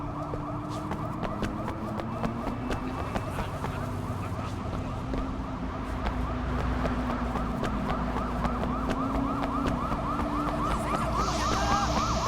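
A police siren in the video game Sleeping Dogs: Definitive Edition wails continuously in a steady rising-and-falling pattern, loud and close, with a low engine rumble underneath and no talking.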